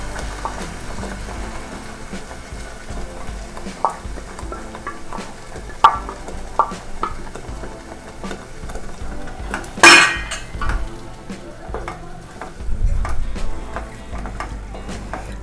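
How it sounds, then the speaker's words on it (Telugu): Tomato paste sizzles quietly in a pan for chana masala while a spoon stirs and scrapes against the metal, with scattered clinks and knocks, one sharp clatter midway, and a soft steady frying hiss beneath. "చూడండి, ఈ టొమాటో పేస్ట్ యాడ్ చేసుకుంటున్నాను."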